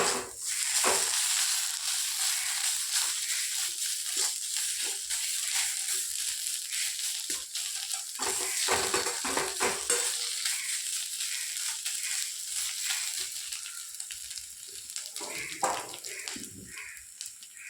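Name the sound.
pointed gourd peels frying in a pan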